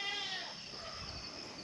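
Goats on a farm, checked the morning after a hurricane passed nearby, bleat close by with a wavering cry in the first half second that fades into a softer, steady background.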